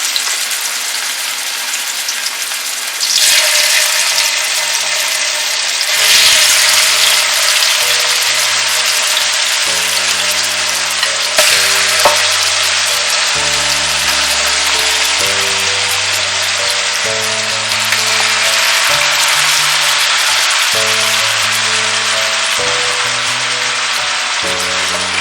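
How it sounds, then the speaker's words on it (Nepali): Marinated mutton fries in very hot mustard oil, a loud, steady, dense sizzle that roars up close and continues without a break, with a low hum running beneath it. "अब यसलाई चलाउँदै फ्राई गर्नुपर्छ।"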